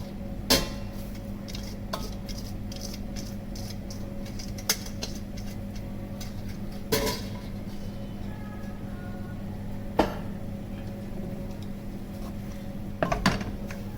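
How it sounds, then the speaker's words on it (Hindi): Spaghetti being tossed and mixed with vegetables in a pan for a quick vegetable spaghetti, with scattered utensil clinks and scrapes against metal over a steady low kitchen hum, fairly close and moderate in level. "तो अब स्पैगेटी को हम मिक्स कर देंगे इसके अंदर"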